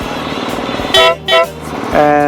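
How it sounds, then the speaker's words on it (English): A motorcycle horn honks at a moose, two short loud blasts followed by a longer one, over a steady idling engine rumble. "Doesn't respond well to honks."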